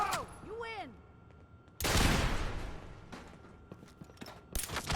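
Rockets fire in a video game. Falling whistling tones lead into a loud, close blast with a long, rough decay, then another sharp burst near the end.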